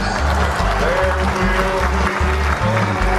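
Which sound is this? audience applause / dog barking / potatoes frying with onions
audience applause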